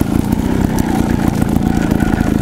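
A Gas Gas TXT trials motorcycle is ridden in second gear, its engine giving a loud, close, steady drone with a fast, even pulse that never lets up.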